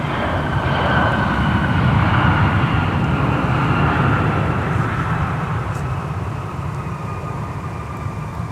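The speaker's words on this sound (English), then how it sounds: "we have a Sun Country arrival on runway 12 right" A Sun Country Boeing 737, flight 712 from Belize City, arrives on runway 12 right at Minneapolis–St. Paul, its steady broadband jet roar holding loud throughout and easing slightly toward the end, with no voices.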